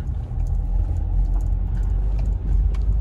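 A Land Rover 4x4 camper drives over rough ground in the Scottish Highlands, a loud continuous low engine rumble from inside the cabin with light rattles and jangles over the top.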